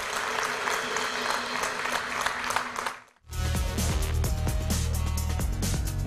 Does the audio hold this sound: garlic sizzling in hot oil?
no